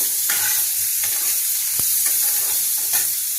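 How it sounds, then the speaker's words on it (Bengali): Spices fry lightly with onion in a pan for Bengali-style chicken butter masala, giving a steady close sizzling hiss broken by soft stirring scrapes and one sharp tap, with no talking. "এক এক করে মশলাগুলো সব দিয়ে দেবো। হালকা করে ফ্রাই করে নেব।"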